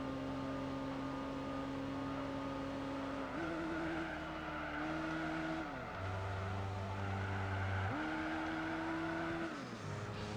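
Roughly 200-horsepower car lapping a track in Gran Turismo 4 on PS2, its engine whining up and down through several gear changes, with steady high revs, dips between shifts, and faint tire squeal, close and without talk.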